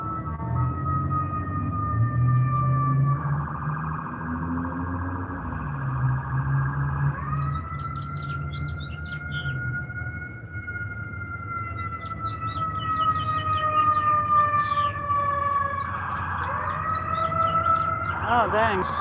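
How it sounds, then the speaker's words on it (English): An ambulance siren wails in long rising and falling tones as it passes, loud and steady over traffic rumble, with a person talking faintly underneath. "I really thought that was going to be a fire truck and it was an ambulance."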